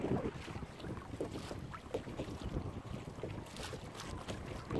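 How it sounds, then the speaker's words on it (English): Steady wind buffeting the microphone aboard a small boat on the Swan River, a constant rushing roar with faint water movement and no speech. "And this wind's great."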